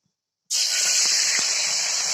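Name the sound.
liquid added to hot oil sizzling in a kadai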